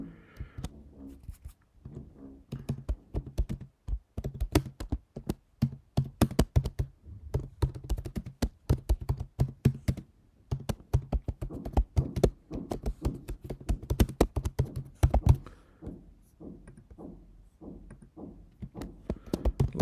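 Steady typing on a computer keyboard while an address is entered, a fast run of close, crisp key taps with brief pauses and a few heavier thunks, no talk.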